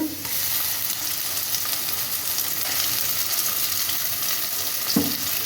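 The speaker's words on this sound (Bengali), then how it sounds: "পেঁয়াজটা ভাজা ভাজা হয়ে গেছে, এবার আমি এতে আদা রসুন বাটা দিয়ে দেবো পরিমাণ মতো।" Onions sizzle in hot oil with ginger-garlic paste added, a steady close frying hiss with stirring scrapes, and a sharper burst of sizzle near the end as more goes into the pan.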